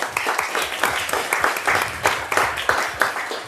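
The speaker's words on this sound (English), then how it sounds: "So a little round of applause for the team here today." An audience at a talk on employee experience gives the team a short round of applause, loose clapping in uneven bursts that rises and dips over a few seconds.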